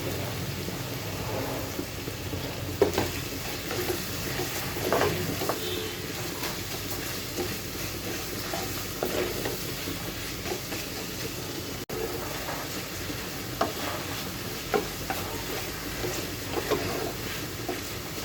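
Chopped onions are added to a pan over low heat and fry with a steady, even sizzle and fine crackle, moderately loud and close, heard alone.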